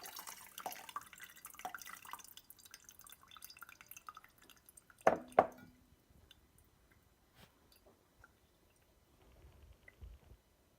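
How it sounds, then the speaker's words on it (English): Hot water drips through coffee grounds in a Bodum pour-over filter, making faint, sparse drops with a couple of louder splashes midway in an otherwise quiet setting. "when the water is done dripping through, you take your filter off"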